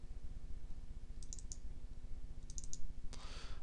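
Faint computer mouse clicks come in quick clusters of two or three while entering dates on stock-ordering software, heard over a steady low hum, followed by a sharper click near the end.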